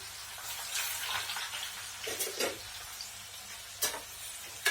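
Onions frying in hot oil, a continuous bright sizzle with occasional stirring scrapes and pops, close and steady with no talk.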